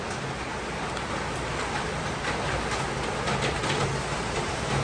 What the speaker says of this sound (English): it's starting to rain like crazy.